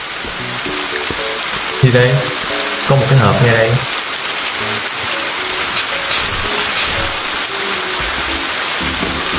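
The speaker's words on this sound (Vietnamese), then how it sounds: "Mưa rồi." Steady rain falls in the horror video game Hatch, a constant hiss of drops on surfaces lasting throughout, with someone speaking over it and some game sounds mixed in.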